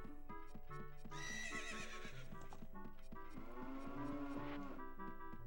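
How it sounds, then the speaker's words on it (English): Horses whinny and neigh over steady clip-clopping hooves and a repeating musical backing, synthetic and game-like, with no talking, from a stable in Zelda: Ocarina of Time. "just some horses here"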